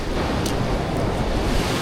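Ocean surf crashes and roars steadily against a rocky shore in North County San Diego, a dense continuous wash of breaking waves with wind, heard up close from the splash zone while shore fishing.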